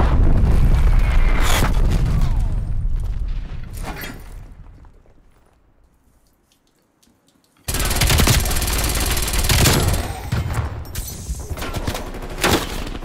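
Incoming artillery explosions and gunfire in Call of Duty: Black Ops Cold War on the Slums map: loud, dense bursts of rapid shots and heavy blasts, a fading rumble into near silence, then another sudden barrage of booming impacts and firing.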